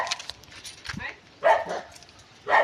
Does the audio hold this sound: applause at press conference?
no